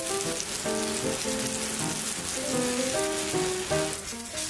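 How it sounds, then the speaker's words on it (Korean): A steady hiss and crackle of flour-coated eggplant frying in a hot pan runs throughout, with music playing over it. "이렇게 밀가루를 묻혀서 구워주면 겉은 바삭, 속은 부드러워 정말 맛있어요."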